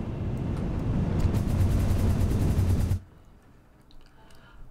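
A hyper tube cannon launches the player in the video game Satisfactory with a loud, dense rushing roar and rapid fluttering pulses that cut off abruptly after three seconds, leaving a quiet background.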